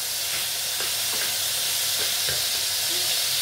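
Chicken and vegetables fry in a pan with a steady, loud sizzling hiss, broken by a few soft scraping stirs.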